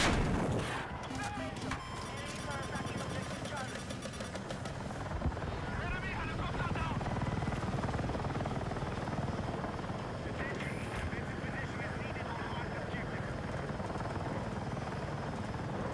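A video game helicopter roars with a loud rotor drone, mixed with bursts of gunfire and explosions, while a player talks over the action.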